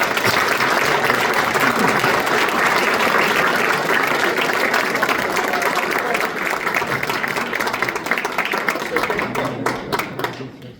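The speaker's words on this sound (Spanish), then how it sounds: "quisiera que le demos un aplauso a nuestro autor" Sustained audience applause for an author at a book presentation in Cochabamba, a dense steady wash of many hands clapping that holds for about ten seconds before tapering off at the end.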